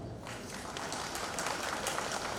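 Audience applause following a speech at a film workers' association anniversary event, a dense, steady clatter of many hands clapping without pause.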